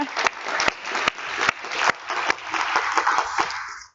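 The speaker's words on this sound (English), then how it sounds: "What about applause to the minister?" A conference audience in Rovaniemi, at an Arctic bioeconomy event, applauds the minister: steady, dense clapping from a full room with sharper individual claps standing out, sustained for several seconds before tapering off.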